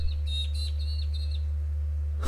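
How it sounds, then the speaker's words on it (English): Birds chirp and whistle outdoors in a series of short, bright calls over a steady low hum, fading out before a louder burst at the end. "those birds are going nuts on the outside"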